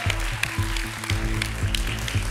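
Studio audience applauding on a Peruvian truth-or-consequences game show, a steady wash of clapping with a few louder bursts under a low musical bed, fairly close and continuous throughout.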